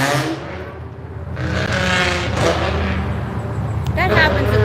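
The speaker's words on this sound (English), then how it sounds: "They're just hitting the gas to make noise and irritate people." A car on an Austin street revving its engine for noise, a loud rising roar that swells and passes nearby, with voices talking over the traffic.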